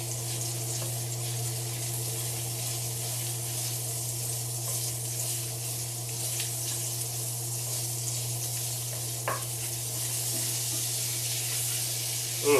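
Mild Italian sausage and bacon sizzling in a pan for southern fried cabbage, a steady hissing crackle with a faint low hum underneath and a few sharper pops, continuous and close.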